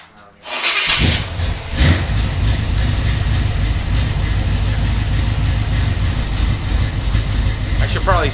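A 1976 GMC Jimmy cold-starts with a brief cranking burst, then catches and settles into a loud, steady, rough idle that runs to the end.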